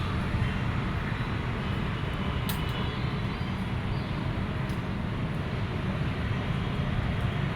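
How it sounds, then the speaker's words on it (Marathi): A broad, steady rumble of an airplane passing overhead, continuous and fairly loud throughout with no voices. "हे बघा अजून प्लेन आलं तिसरं प्लेन आहे"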